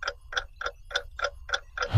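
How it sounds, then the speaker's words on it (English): A cartoon clock ticks at a glass slipper ball, seven evenly spaced bright ticks in a steady rhythm, clear and close over a faint low hum. "That sounds like the clock at the glass slipper ball."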